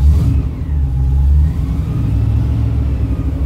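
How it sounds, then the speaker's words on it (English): A 1972 Range Rover V8 idling with the choke pulled out slightly, a loud, steady low engine rumble close by. "There's no choke at the moment, and let's pull the choke out a tiny bit."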